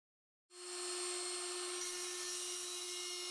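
A PROXXON IBS/A cordless drill/grinder with a DC permanent-magnet motor spins up after a brief silence to a steady, high-pitched whine, running smoothly and evenly near the listener with a faint low rumble joining later.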